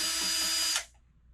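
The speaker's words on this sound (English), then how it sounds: "Let's start off with a Phillips head screwdriver. Take off that screw on the left." A Phillips head screwdriver backs out a screw on a Pride Victory mobility scooter's power connector block: a steady, close whirring burst that lasts under a second and then cuts off, with no talking.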